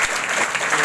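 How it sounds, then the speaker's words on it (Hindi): Students at a free competitive event in India break into loud, dense applause, steady clapping filling the whole short stretch. "तो एक बार पहले जोरदार ताली आप लोग अपने लिए।"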